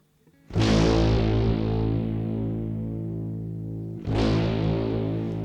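An electric guitar played through a very fast envelope-follower modulation effect gives a harsh, distorted tone. Two loud plucked notes ring out, the second about three and a half seconds after the first, each buzzing and slowly fading.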